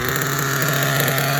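RC nitro engine fitted with an LRP 32 Spec 2 carburetor on a K5.9 sealed backplate in an HB D8T buggy, running rich on initial startup, a loud steady high-revving buzz held without a break.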